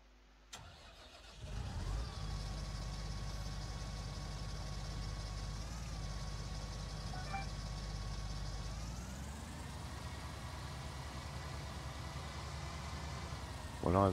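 A tractor engine in Farming Simulator 19 cranks and catches, then settles into a steady, loud idle that continues throughout, with a slight shift in tone partway through.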